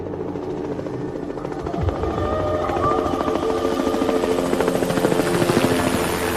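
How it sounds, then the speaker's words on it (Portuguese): A steady, loud rotor drone of several helicopters overhead, heard outside a hotel, a continuous whirring roar that swells slightly and never lets up. "ouviu no exterior do hotel o que lhe pareceu ser o ruído de vários helicópteros"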